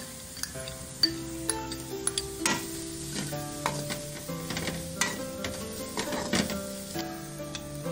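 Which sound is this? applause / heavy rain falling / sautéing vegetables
sautéing vegetables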